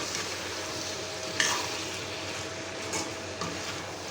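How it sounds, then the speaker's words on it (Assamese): Chicken frying in oil in a pan, a dense steady sizzle close by with a couple of faint clicks. "দেখিছেনে, ফ্ৰাই হৈ আছে আৰু অকণমান টাইম লাগিব।"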